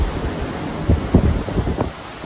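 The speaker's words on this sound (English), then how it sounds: "this sound of the waves never gets old" Ocean waves heard from a cruise ship at night on a foggy evening, a low, rumbling wash of surf with soft surges and steady wind noise, fairly loud and close, with no talking.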